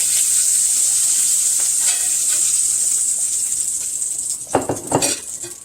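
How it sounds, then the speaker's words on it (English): Small shrimp sizzle steadily in a hot skillet, a bright continuous hiss, before a few clinks and scrapes near the end as they are lifted out to another container. "I'm going to remove it from the skillet, put it in another container."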